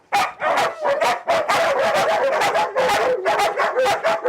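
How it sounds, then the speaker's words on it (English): A female dog barks over and over at close range, loud, rapid yips and woofs packed together in quick bursts with barely a pause between them. "I'm just gonna have her bark at you."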